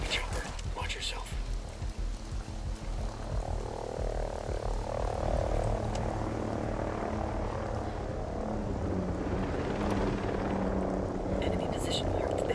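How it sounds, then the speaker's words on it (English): An enemy helicopter in the Ghost Recon Breakpoint video game thrums overhead with a loud, steady rotor drone, joined by chattering game ambience and other battle noise across the whole stretch. "Enemy chopper, watch yourself."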